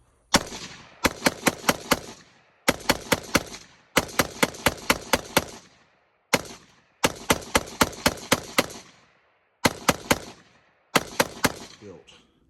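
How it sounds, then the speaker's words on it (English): A home-built AR-15 rifle fired outdoors in quick strings of loud, sharp shots, several rapid groups of four to six reports separated by short pauses, each crack ringing out clearly and alone. "the last weapon I'm going to do in this video is the AR-15 that I just built"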